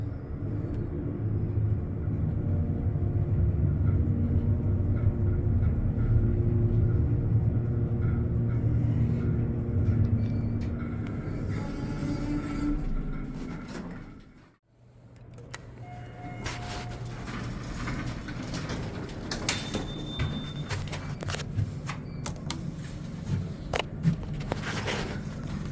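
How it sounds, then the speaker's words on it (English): A hydraulic elevator motor humming steadily as the car rides slightly rough, a loud low rumble that fades into a brief near-silence at the stop, then resumes with faint clicks and mechanical rattles. "The motor sound isn't very loud, but at least it rides slightly rough, which makes it a less boring hydraulic lift."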